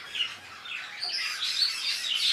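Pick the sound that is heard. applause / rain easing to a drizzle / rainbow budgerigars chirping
rainbow budgerigars chirping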